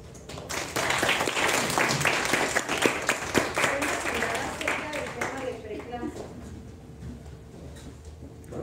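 An audience at a medical conference on preeclampsia applauds an obstetrics and reproductive biology specialist. A burst of dense clapping swells quickly, holds for several seconds, then thins out and fades.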